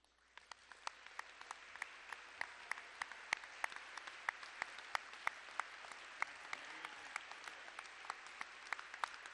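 An audience at an awards event applauds the Sequoia Fellows, a steady, fairly distant wash of clapping with a few sharper nearby claps standing out, sustained evenly throughout.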